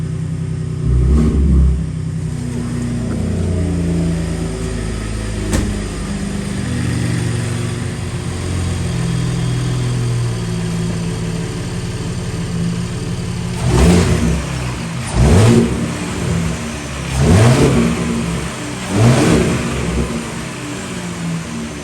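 A Gen 3 Ford Raptor EcoBoost engine fitted with a COBB cold air intake idles with a low rumble, then blips through four sharp revs that rise and fall, loud and close with no talking.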